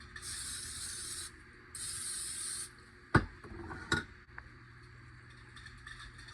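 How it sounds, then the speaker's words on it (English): Two hissing bursts from a spray can, each about a second long, followed by a couple of sharp clunks and knocks, close by. "Yeah, but I'm gonna spray it with this."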